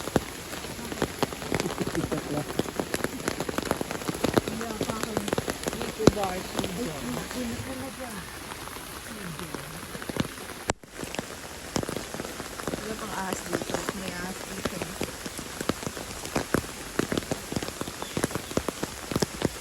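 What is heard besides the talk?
rain falling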